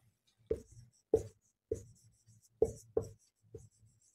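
A teacher writes notes during a Class 10 biology lesson, giving six or so short, crisp scratching strokes in an irregular rhythm, close and clear against a quiet room.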